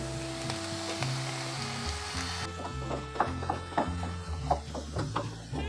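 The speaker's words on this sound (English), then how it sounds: "let's brown up some ground beef. I'm gonna put just a touch of olive oil here in the pan" Ground beef browning in a pan with a touch of olive oil and minced garlic, a steady close sizzle under a low hum, with a run of spatula scrapes and knocks in the second half.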